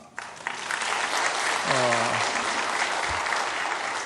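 Congregation applauding in a church service, a dense, steady wash of clapping from many hands throughout, with a brief voice and a low thump partway through.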